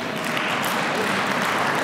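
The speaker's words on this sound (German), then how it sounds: "Applaus" Sustained applause from a crowd of delegates at a party conference in Bochum, dense steady clapping filling the hall throughout, loud and even with no break.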